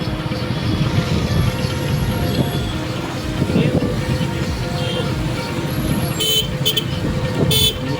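Congested road traffic on a hillside route near Tamhini Ghat, with a steady rumble of idling and creeping vehicle engines close by and a couple of brief horn toots near the end.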